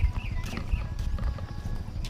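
Brief, muffled clip-clop of hooves nearby over low rumbling background noise.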